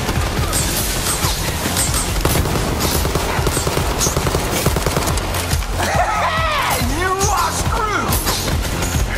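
Rapid bursts of gunfire from weapons in the shooter video game Borderlands 3, loud and dense with sharp repeated cracks and thuds, joined midway by whooshing, warbling energy and impact effects; a voice talks faintly underneath.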